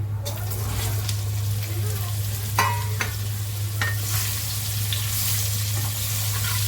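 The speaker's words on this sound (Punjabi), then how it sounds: "ਹੁਣ ਇਹਦੇ ਵਿੱਚ ਪਾ ਦਨੇ ਆਪਾਂ ਆਪਣੀਆਂ ਗਾਜਰਾਂ ਤੇ ਮੂਲੀਆਂ" Carrots and radishes for a sweet-and-sour pickle stirred in a hot frying pan, giving a steady close sizzle with occasional scraping clinks of the spoon, over a constant low hum.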